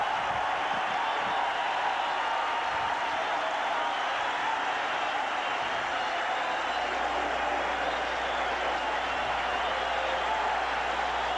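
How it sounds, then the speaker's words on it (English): A hometown crowd cheering and applauding at a 1983 playoff baseball game at Comiskey Park, a steady distant roar of many voices that holds throughout. "And here comes that hometown crowd"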